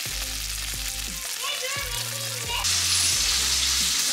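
Bacon sizzles and crackles in a pan during breakfast cooking at home, a steady fry with low, repeated knocking underneath and the sizzle swelling louder toward the end.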